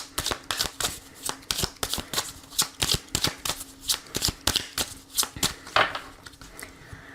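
A deck of oracle cards is shuffled close up in a steady, rhythmic series of crisp riffles and slaps that continues throughout.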